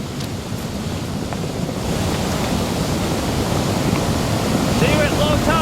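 Ocean waves and surf wash steadily at a shore as the tide goes out, a continuous broadband roar with wind noise buffeting the microphone.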